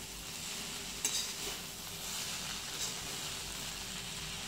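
Matar poha being stirred in a pan over a high flame, a steady soft sizzle with a few scraping stirs and a light clink, fairly quiet with no talk.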